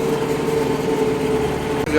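A tractor engine runs steadily at about 1000 rpm in second gear while hauling a homemade deep ripper, giving a loud continuous drone with a low hum throughout.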